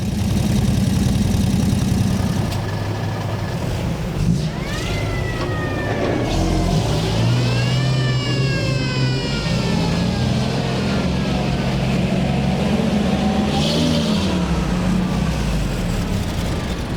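Military vehicles from a militaria collectors' association parade through the streets of Rombas for a liberation anniversary, their engines rumbling steadily and loudly throughout, with rising, siren-like wails sweeping over the traffic noise.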